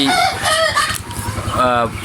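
Domestic chickens cluck and crow loudly at close range in a short, busy burst.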